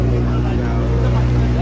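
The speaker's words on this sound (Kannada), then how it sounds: "ಅಲ್ಲಿ ಬೋಟ್ ಹೋಗ್ತಿದೆ" Boat motoring across the sea off Baga Beach, Goa, a loud, close, steady engine drone with a deep hum and constant rumble, no breaks.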